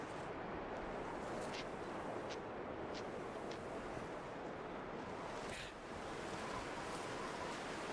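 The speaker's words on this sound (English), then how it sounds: "God, it is really windy out." Strong wind roars steadily outdoors in the survival game The Long Dark, a dense, unbroken rushing with brief whistling gusts rising over it, loud and close throughout.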